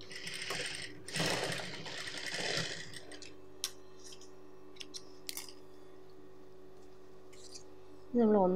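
A sewing machine stitches a folded one-inch churidar pant hem in a fast, buzzing run of a few seconds, broken by short pauses. Quieter hum and small clicks follow, and a voice briefly comes in at the end.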